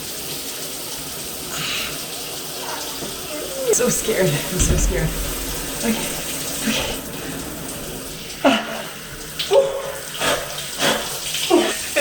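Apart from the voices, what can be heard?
shower water running for a cold shower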